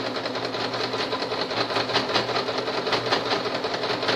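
A sewing machine runs steadily while stitching bias binding around the corner of a hygiene kit piece, a loud, continuous rapid mechanical whir with a fast regular stitch pulse, close up and with no talking.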